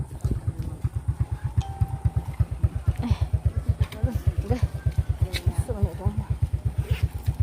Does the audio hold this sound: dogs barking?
no